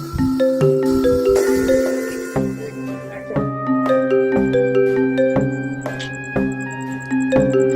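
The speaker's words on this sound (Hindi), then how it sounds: "तो ये फोन किसका बज रहा है इतने रात को?" A phone ringtone plays a looping electronic melody late at night, steady and fairly loud, with bright chiming notes repeating over several seconds.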